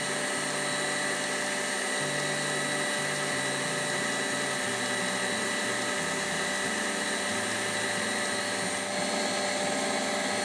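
Steady electric mixer whirring continuously as sugar is gradually added to the eggnog mixture, a dense, even motor drone with no talking.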